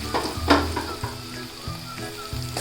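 Onions, spices and tomatoes fry in a pan for misal pav, a close, loud sizzle broken by several stirring scrapes and crackling bursts at an uneven rhythm.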